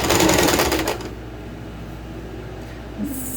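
A sewing machine stitches over a shirt collar being converted from a straight point to a band collar, a dense, steady motor whir with rapid needle chatter for about a second, then fading to a quieter hum.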